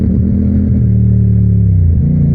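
A motorcycle rolls down a gravel road, its engine a loud, steady low rumble with shifting tone, heard close for a few seconds without talk.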